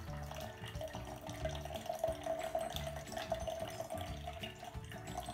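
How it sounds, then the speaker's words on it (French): Iced tea is poured quietly into a jar for an edible slime recipe, a soft, continuous trickling splash with faint clinks and no talking. "De l'ice tea dans le bocal."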